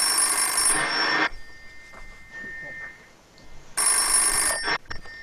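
A telephone rings loudly in two long bursts of bright electronic bell trilling, with a quieter gap between them in a room.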